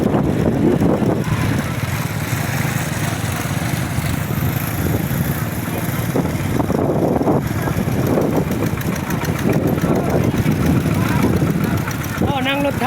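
A tractor engine chugs loudly and steadily up close while riding, a rough low rumble that never lets up, with voices occasionally over it.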